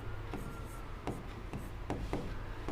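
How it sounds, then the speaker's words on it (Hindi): Writing out a maths solution on paper by hand, with a series of quiet, close scratchy strokes and taps at an uneven rhythm. "चलिए तो लिखेंगे चूंकि हल लिखेंगे"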